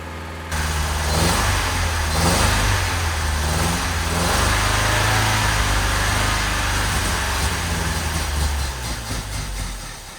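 A 1964 Triumph TR4 engine running steadily with a rough, throbbing idle and rising revs, loud and close throughout with no talking.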